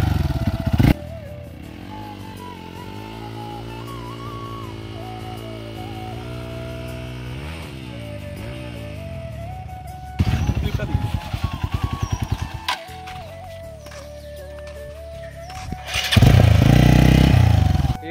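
Motorcycle engine held at half clutch, revs rising and falling in a steady drone with brief harder bursts near the middle and end, close by, with some voices faintly in the background.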